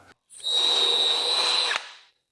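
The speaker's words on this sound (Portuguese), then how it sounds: "Para perfurar os buracos." A cordless drill set to drilling mode spins up and runs at full speed for about one and a half seconds, a loud steady high whine that then winds down, close and alone.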